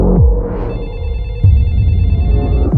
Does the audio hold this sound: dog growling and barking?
no